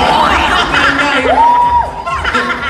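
An audience at a live variety show in Dubai shouts and cheers loudly, a dense roar of voices with rising whoops, while an amplified host's voice carries over the crowd.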